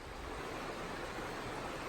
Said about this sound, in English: This is that same outflow creek, river from Pierce Pond.